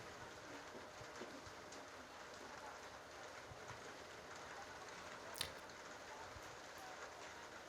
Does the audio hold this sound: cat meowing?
no